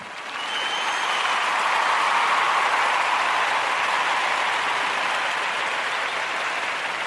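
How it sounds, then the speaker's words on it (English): An audience applauds the Kuumba babies at a gathering, a sustained, dense round of clapping that swells quickly and stays loud and even for several seconds, with no talk over it. "we want to give those Kuumba babies a round of applause"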